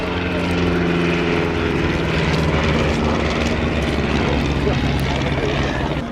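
WWI biplanes, an Avro 504 and a BE2c, flying at an air display, their propeller engines a loud continuous droning roar, with a commentator speaking over it.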